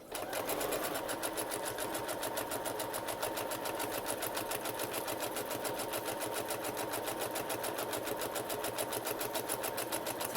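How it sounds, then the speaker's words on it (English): A sewing machine stitches a pouch of cardstock and tracing paper, a fast, even mechanical clatter running continuously up close from start to finish. "To tell the truth, the only sewing I do is crafting sewing."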